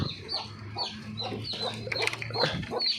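A chicken clucks inside a pigeon house, with repeated short calls recurring every half second or so over low background hum, close and moderately loud.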